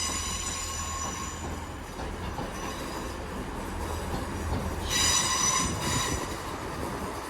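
A Class 66 locomotive running light engine at Cardiff Central station gives a steady distant rumble, with a brighter squeal of wheels on rails rising briefly near the end; no one speaks.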